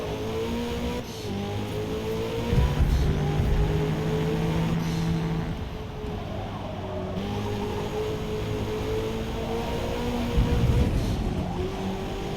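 A race car engine droning and revving while driving in Forza Motorsport, a continuous loud engine note with gear shifts and rising pitch sweeps, rising again toward the end.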